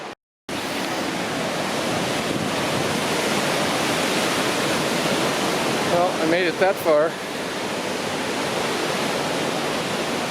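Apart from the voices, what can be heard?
river rushing along the Mist Trail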